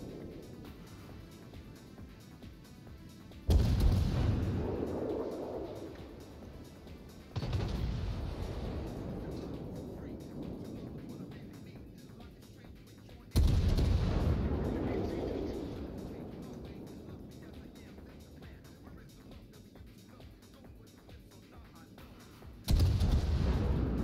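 Naval gunfire in World of Warships as a cruiser battle plays out, with four heavy booming salvos spaced several seconds apart, each decaying into a long rumble over steady background ocean and engine noise.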